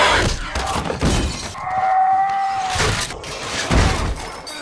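A house window shatters in a zombie film, heard as several loud crashing bursts of breaking glass with thuds between them and a brief tonal ring in the middle.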